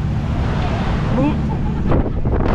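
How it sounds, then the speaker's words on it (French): Steady wind in Little Venice, Mykonos, rushes and rumbles against the microphone throughout, with faint voices and some brief noise bursts near the end. "toujours le vent, je vous ai dit"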